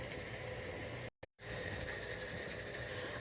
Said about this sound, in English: You can hear my canner over here.